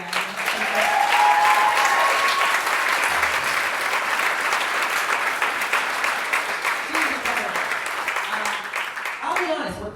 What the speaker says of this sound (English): Can we just get another round of applause for Lori Walston?